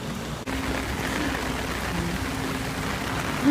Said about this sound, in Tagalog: Sobrang lakas ng ulan, grabe.